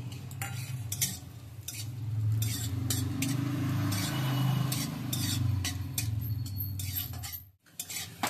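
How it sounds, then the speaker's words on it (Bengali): Almonds and raisins fry gently in a spoonful of desi ghee in a pan, a soft steady sizzle under repeated scraping and clinking of a spoon stirring them, with a brief pause near the end. "এবার আমি কাঠবাদাম আর কিচমিচ এগুলোকে ভেজে নিচ্ছি।"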